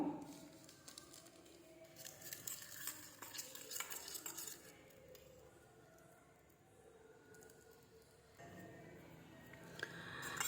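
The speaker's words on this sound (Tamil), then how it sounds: "இதை நல்லா இந்த மாதிரி மிக்ஸ் பண்ணி எடுத்துக்கோங்க" Honey and coconut oil are stirred together in a small bowl, giving quiet, uneven scraping and sticky squishing strokes that pause briefly midway before resuming, faint and close with no talk.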